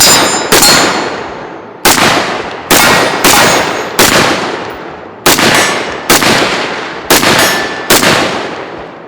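A loud, rapid string of about ten sharp gunshots rings out at an outdoor shooting range. Each crack carries a ringing tail that decays before the next shot.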